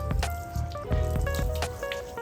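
Water sheets and drips off a ceramic-coated Honda Fazzio scooter during a motorcycle wash, with scattered splashy patters over a steady bed of tonal background music.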